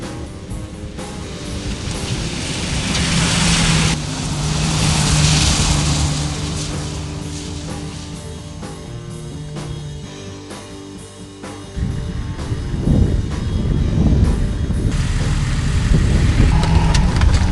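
A Jeep Wrangler TJ and a Hummer drive off-road, with engine rumble rising and falling through revs and idles, a steady drone giving way to rougher, louder running and rattling toward the end.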